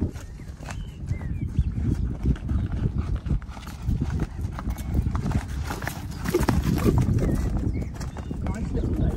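Quarter horse's hooves beating out a rhythmic canter, steady clip-clop close by with a rumbling footfall pattern, while a person talks over it.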